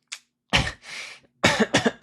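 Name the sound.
throat clearing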